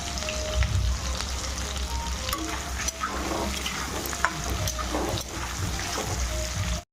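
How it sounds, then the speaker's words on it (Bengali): Potatoes and onions fry in a pan with two bay leaves, giving a steady close sizzle and crackle with occasional stirring scrapes, and no talk over it. "আলুটা পেঁয়াজ সঙ্গে লাল করে ভেজে হালকা লাল করে ভাজি আর সাথে দুটো তেজপাতা"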